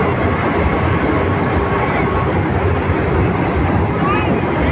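A train rushing past at speed, a loud continuous rumble and roar filling the whole stretch without letup, with a voice talking over it.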